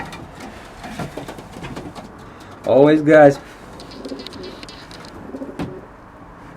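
Pigeons coo in a short, loud burst close by, a couple of throaty coos in the middle, with someone talking before and after.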